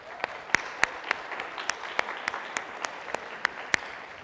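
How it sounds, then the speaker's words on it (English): Graduating seniors applaud at a school senior awards ceremony, a steady crowd clapping with sharp individual claps standing out at irregular intervals, moderately distant. "Give yourselves a round of applause."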